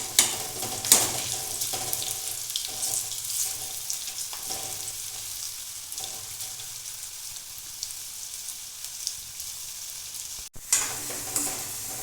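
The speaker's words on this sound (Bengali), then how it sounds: "বাকিগুলোও আমি একইভাবে ভেজে নেব" Potato pieces frying in a pan for a crunchy snack, a constant soft sizzle with occasional stirring clinks and a sharp knock near the end, close and without speech.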